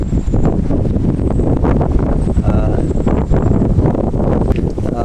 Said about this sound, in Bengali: প্রচুর পরিমাণে বাতাস রয়েছে, বৃষ্টি অবশ্য নাই এখন।